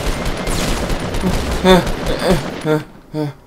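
Gunfire in the Fortnite video game, a loud rattling burst followed by several separate sharp shots that fade out near the end, mixed with energetic game effects.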